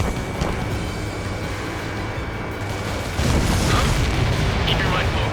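A missile strikes its target during aerial combat in Ace Combat 7, heard as a loud, dense booming rumble that swells partway through and sits under steady engine and radio noise.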